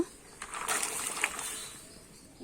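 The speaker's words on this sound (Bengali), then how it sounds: "আমি কিন্তু উনুনটা ধরিয়ে গরম জল বসিয়ে দিচ্ছি জলটা কিন্তু গরমও হয়ে গেছে এবারে ডুমুরটা দিয়ে দেব" Figs dropped into a pot of hot water on a stove make a short, soft splash and slosh near the middle, surrounded by quiet background.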